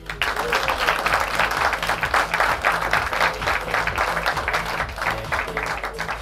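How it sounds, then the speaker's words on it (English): An audience applauds a player being introduced at a 9-ball pool final, a steady, even round of clapping from a crowd across the hall that holds without a break for about six seconds. "Please give a warm round of applause for Hungary's Oliver SZOLNOKI."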